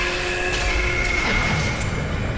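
Low rumbling rail noise of a tram moving through the Dead Space game, a steady mechanical drone with faint metallic whine held at constant level throughout.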